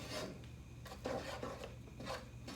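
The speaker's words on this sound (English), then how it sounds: "Scraping the sides of the pot to make sure I don't let any Play-Doh go to waste." A spoon scrapes the sides of a pot while stirring homemade playdough, with short rasping strokes that come and go at an uneven rhythm, quiet and close, with no talking.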